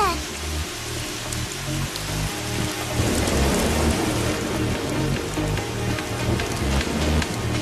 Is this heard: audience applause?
no